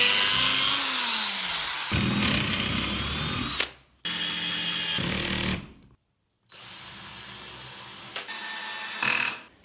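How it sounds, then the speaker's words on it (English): A long drill bores pilot holes into a wood roof truss in several loud whining bursts, with short pauses between them where it stops and starts again. "Again, I'm using this long drill to pre-drill."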